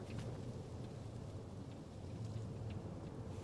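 Psychic storm in the video game Life is Strange Double Exposure: steady heavy rain with a low rumble of thunder, dense and continuous, with no voices.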